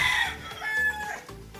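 A rooster, one of several fighting cocks kept caged on a farm, crows loud and close in a single brief call.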